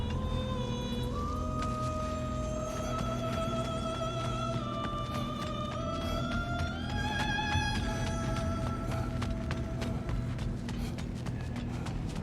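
A siren creature's wail in God of War Ragnarok: Valhalla, heard as sustained rising and stepping tones over a dense, continuous game soundscape with low rumble and scattered clicks, steady and loud throughout.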